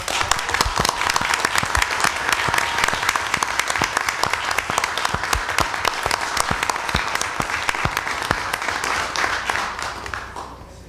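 Audience applause at a school board meeting: sustained, lively clapping from a roomful of people for about ten seconds, with sharp individual claps audible before it tapers off at the end.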